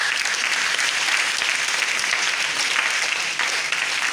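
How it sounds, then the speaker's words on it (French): A crowd at a celestial church choirs' festival in Abomey-Calavi applauds, a loud, dense and continuous wash of clapping with no voices standing out. "Applaudissez pour vous-même."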